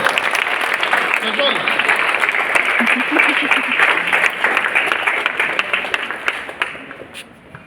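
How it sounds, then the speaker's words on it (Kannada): Students at a school road-safety session clap together in a loud, dense round of applause that starts near full strength and fades toward the end, with voices mixed in. "ನಾನು 18+ ಹೇಳಿದಲ್ಲಿ ಹೊಡಿ ಚಪ್ಪಾಳೆ ಬರ್ರಿ"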